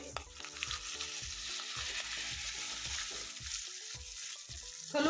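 Ground spice paste frying and being stirred in a hot pan for kadhi, with a steady close sizzle and a series of rhythmic scraping stirs throughout and no talking.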